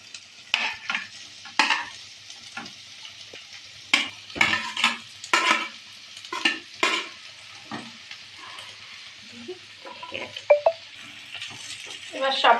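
Mixed vegetables with fried potato and paneer being stirred in a pan, a string of separate scraping and clattering strokes of a spoon with faint frying underneath and quiet pauses between.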